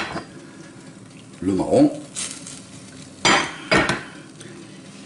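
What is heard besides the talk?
white wine deglazing a pan of chicken, sizzling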